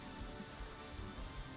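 Steady rain falls across a Vintage Story game world, a dense, even patter spread wide and continuous from start to finish with no voices over it.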